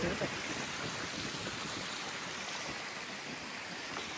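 Steady broadband rush of churning muddy water bubbling up from a spring and flowing, continuous and fairly close, with no pauses throughout.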